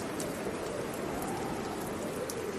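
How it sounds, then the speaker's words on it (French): Steady rain falls in windy weather, a dense continuous hiss of drops with a few louder patters on top, uniform and unbroken throughout. "À Egg Harbor Township, il vente, il pleut et"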